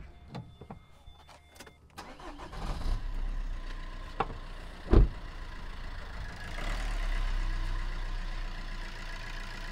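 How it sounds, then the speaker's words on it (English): A common rail diesel car engine cranks and fires with a sharp catch, then settles into a steady close running rumble, after some clicks and knocks. "So there's the car running."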